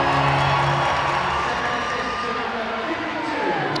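A crowd at a Sheffield Steelers ice hockey game roars and cheers loudly and steadily after a goal, a dense wash of voices that eases slightly toward the end.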